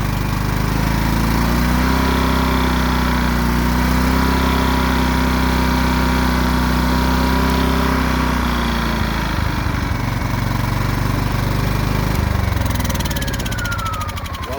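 A Predator 2000 small engine runs steadily up close, a loud continuous drone with a low throbbing pulse that holds at an even speed before easing slightly near the end, with no talking.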